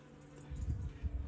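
Young honeybees at an open hive give a low, droning buzz that swells partway through the short moment, close and steady with no voices.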